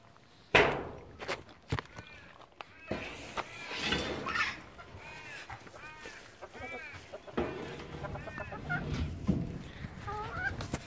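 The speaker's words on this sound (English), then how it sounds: "Let's show my chooks too." Backyard chickens cluck and call close by while their feet scratch and patter over the ground, with irregular bursts of activity and a soft voice now and then.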